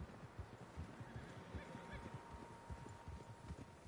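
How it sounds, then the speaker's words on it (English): Horses whinny and snort in Red Dead Redemption 2, several animals close by, with soft hoof clops and rustling beneath a faint steady hum. "Horses, quite a few of them."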